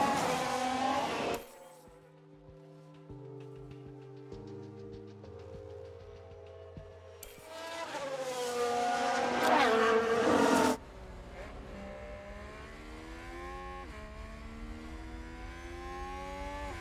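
A Formula 1 car in F1 Manager 2022 laps the Singapore street circuit, its high-pitched engine shifting up and down through gears with sustained whining revs, then a loud close burst before settling into a steady drone.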